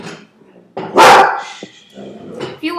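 A house dog barks loudly and close by in one sharp burst, with a voice talking before and after it.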